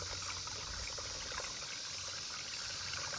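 Water running through a gold prospecting sluice on private land in Llano, Texas, a steady, soft trickling and gurgling flow, close but fairly quiet, continuous with no talking.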